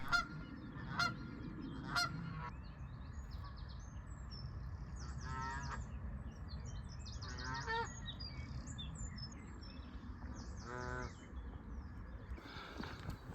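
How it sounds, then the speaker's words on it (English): Geese honk in repeated bursts of nasal calls beside a canal, some near and some farther off, over a quiet outdoor background hum. "the geese may wake you up early in the morning"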